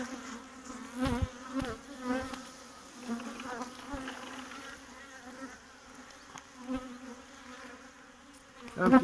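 Honey bees buzzing around an opened hive before wintering, a dense close drone with individual bees whizzing past the ear in irregular swells, a few soft knocks among them.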